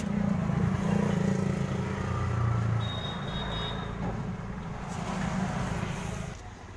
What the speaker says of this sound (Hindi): देख लिया हमारी सेल्फ स्टार्ट होने लगी।